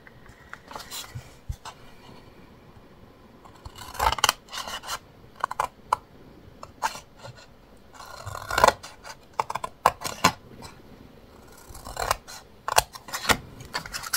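Scissors snip through scrapbooking paper for a baby-birth keepsake box, a series of short, crisp cuts and rustles in irregular bursts, close and fairly quiet.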